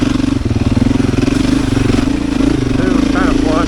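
A Beta 500 RS dirt bike drones steadily during an off-road ride, with its engine note close and prominent. A person talks over the engine.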